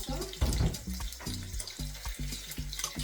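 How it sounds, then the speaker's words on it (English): Two cups of lukewarm water pour into a bowl of sugar and yeast for dumpling dough, a close, splashing trickle with small knocks running for a few seconds. "we're going to pour in 2 cups of lukewarm water"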